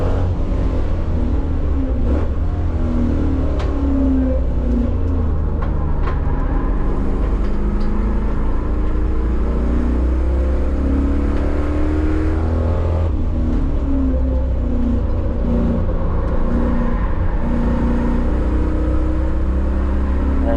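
A Chevrolet Caprice with a T56 manual gearbox accelerates hard down a racetrack straight while running down on power, its loud, steady engine drone continuous throughout with no talking.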